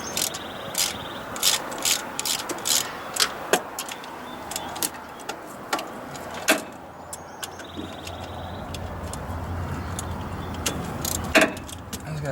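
A hand ratchet clicks in short, quick bursts while backing out 10 mm bolts on a Cummins 4BT/6BT lift pump, the sharp pawl ticks close and crisp over a faint steady hum.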